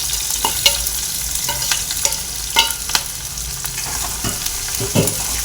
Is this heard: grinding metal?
no